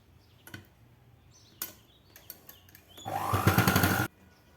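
A sewing machine stitching a 42-inch blouse runs one loud, rapid burst of needle strokes for about a second, after a few sharp knocks and clicks from handling the fabric.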